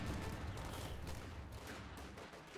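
Machine-gun fire support from a lieutenant's squad armed with BARs in Company of Heroes 2: dense, continuous, distant-sounding rattling bursts, fairly faint, without clearly separated shots.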